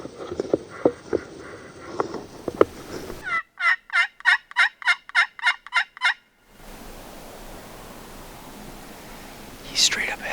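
A wild turkey gobbler in big woods lets out a loud, rapid string of gobbles close by, following hushed whispering and footsteps, then leaving a quiet forest ambience.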